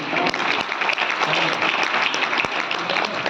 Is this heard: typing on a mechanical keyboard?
no